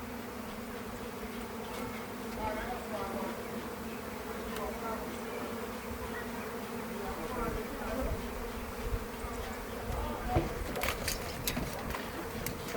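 A thick swarm of wild bees buzzes steadily and close while being guided into a box, a continuous droning hum with occasional faint voices and bird calls in the background, in a garden in Kingston, Jamaica.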